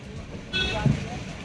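Steady low rumble of a moving metro train carriage, close and continuous, with people talking over it, including a voice.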